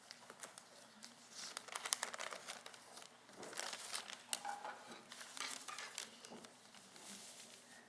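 A sheet of paper is crumpled and handled near the microphone, giving soft, irregular crinkling and rustling that comes and goes quietly.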